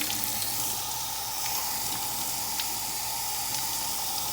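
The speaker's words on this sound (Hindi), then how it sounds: "अब हम इसको गर्म पानी के नीचे" Frozen shami kebabs held under a hot running kitchen tap, giving a steady close splashing rush of water that continues evenly throughout with no talk.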